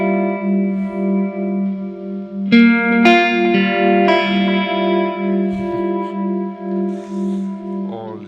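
An electric guitar plays a held low note with a few picked higher notes over it, run through modulation and delay pedals, giving a warbling, echoing sustain heard alone.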